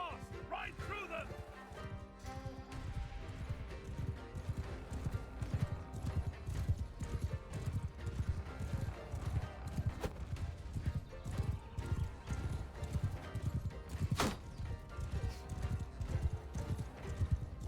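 Horses gallop in Mount & Blade: Bannerlord, with steady rapid clip-clop hoofbeats running throughout and an occasional whinny, loud and close amid battle noise, with a voice calling out over them.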